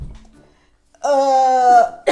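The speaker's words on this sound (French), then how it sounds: "Pourquoi il tousse?" A single harsh, drawn-out cough, loud and close, following a brief low murmur, with a short second burst right at the end.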